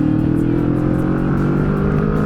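Kawasaki Vulcan S motorcycle pulling up a steep hill, its engine a loud, steady close-up drone with wind rush and no break across the short stretch.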